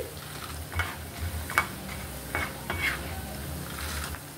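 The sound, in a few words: stirring and frying tempering spices in a pan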